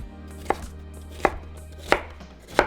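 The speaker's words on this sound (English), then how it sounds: "we're going to cut them into small little cubes" Cucumber being cut into small cubes with a knife on a board, four distinct crisp chops spaced roughly evenly apart, close and clear with no talking.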